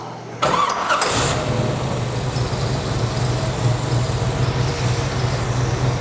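1958 Corvette with a 454 engine cranking briefly and catching, then settling into a steady, loud, rumbling idle close by.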